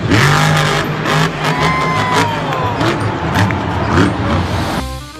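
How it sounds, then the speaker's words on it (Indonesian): A monster truck engine revs loudly and steadily, its tone rising and falling in surges over several seconds before cutting off near the end, set within a toy car scene. "ada mobil monster"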